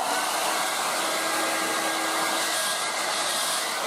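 A Revlon 1800W dual-speed hairdryer runs at full heat and top speed, a loud, constant airy whoosh with a thin motor whine, steady throughout and close up.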